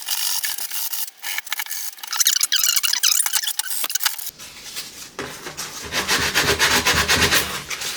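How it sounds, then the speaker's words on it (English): Sandpaper scrubs a homemade carbon fibre bike frame in steady back-and-forth strokes, first a bright, hissing scratch, then a fuller, coarser rasp with more body, close and continuous. "So let's sand."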